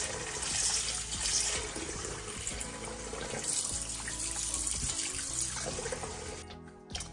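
Tap water runs steadily into a sink, a continuous rushing splash that stops near the end.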